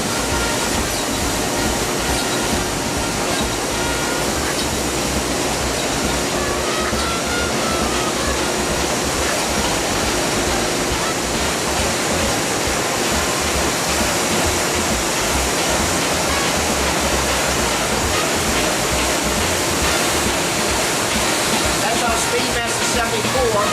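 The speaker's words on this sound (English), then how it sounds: "So let's take a look at the Speedmaster 74 running now." A Heidelberg Speedmaster 74 six-color aqueous sheetfed printing press runs with a loud, continuous mechanical rush and clatter, dense and unbroken throughout.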